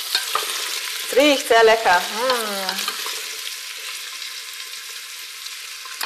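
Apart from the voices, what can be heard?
stirring onions, cabbage and carrots sautéing in a pot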